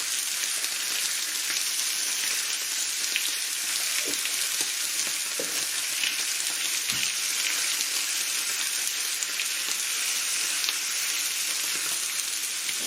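Beef rib steak (côte de bœuf) searing on a grill, a steady bright hiss and crackle of fat sizzling, continuous and close, with faint clicks and no voices.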